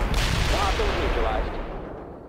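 An anti-tank rocket fires in the World in Conflict battle game, a loud, booming whoosh that fades over about two seconds, with a voice talking underneath.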